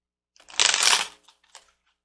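A deck of tarot cards is shuffled in one quick, close riffling burst lasting under a second, followed by a few faint card taps in an otherwise quiet room.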